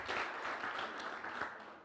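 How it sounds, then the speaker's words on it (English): A conference audience gives brief, light applause, a short patter of scattered claps at moderate distance. "Small applause, please, from your side."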